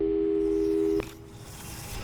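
Telephone busy signal from the video game Portal 2, a loud steady tone that holds for about a second and then cuts off abruptly, leaving faint background noise.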